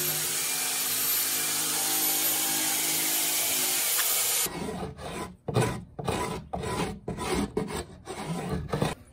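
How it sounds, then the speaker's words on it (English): Wooden headlights for a children's car bed are sanded by hand with 80 grit sandpaper: a steady rasp for several seconds, then a run of quick rhythmic scrubbing strokes with short pauses. "A little 80 grit sandpaper here."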